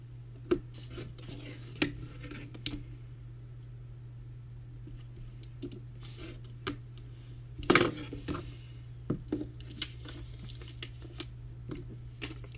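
Fabric pieces for a quilt being cut at close range, with scattered sharp snips and soft rubbing sounds over a steady low electrical hum.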